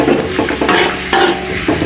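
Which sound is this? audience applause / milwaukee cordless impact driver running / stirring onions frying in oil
stirring onions frying in oil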